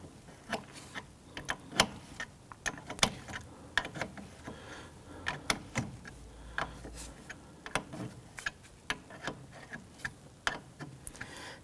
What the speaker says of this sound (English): going to go ahead and use my 11mm open end wrench, and we want to open this up